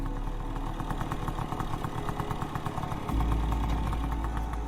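A scooter engine idles with a steady, low, rhythmic putter that runs throughout and grows slightly louder near the end, with no voices over it.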